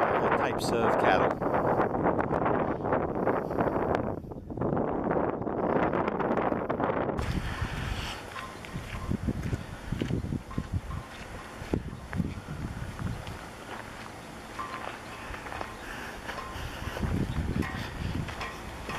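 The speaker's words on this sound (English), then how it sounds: "since we've been here, it's been very windy." Strong wind gusts buffet the microphone at a campground, roaring and rustling with uneven bursts throughout, loud and close, and a person talks under the wind.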